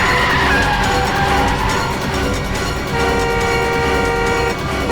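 Car with failed brakes in a dramatic chase scene, a loud continuous rush of engine and tire noise with a tonal, horn-like whine, sustained without speech.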